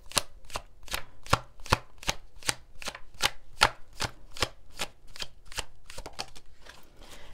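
Tarot cards being shuffled by hand, a steady run of about fifteen crisp riffling bursts at an even rhythm, close and fairly quiet, with no talking.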